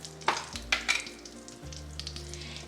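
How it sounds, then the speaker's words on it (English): Butter melts and sizzles softly in a pan for a pork loin glaze, with a low steady frying hiss and a few brief stirring scrapes. "what I've done is I've melted butter"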